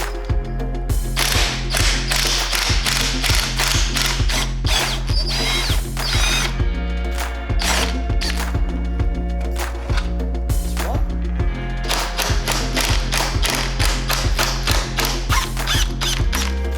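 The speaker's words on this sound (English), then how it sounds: "Right, so just gonna undo the bush bolts." A ratchet wrench undoes the bush bolts on a Fiat Punto GT under restoration, giving rapid repeated clicking bursts over a steady background hum, close and fairly loud throughout.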